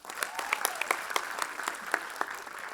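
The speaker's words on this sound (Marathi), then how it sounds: "या सर्व प्रतिभावान कलाकारांसाठी टाळ्या उजव द्या" An audience at a nursing students' lamp lighting and oath taking ceremony claps for the performers, a brief burst of scattered, crisp handclaps at moderate distance.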